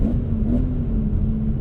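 BMW E46 M3 ZCP with its S54 engine on track, a steady loud engine drone holding one even tone throughout, close and unbroken with no talk over it.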